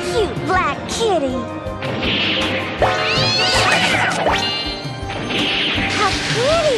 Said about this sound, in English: What a cute black kitty.